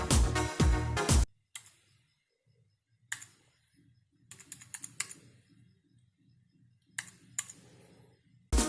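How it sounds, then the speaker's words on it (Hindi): Computer keyboard typing sound effect: a loud burst of rapid clacking at the start, then scattered clusters of keystrokes and clicks at varying loudness with brief pauses between, ending on another loud burst. "जैसे कि मैं सर्च कर देता हूँ टाइपिंग। तो देख सकते हो इधर में बहुत सारे जो टाइपिंग रिलेटेड साउंड इफेक्ट है इधर में आ गया है।"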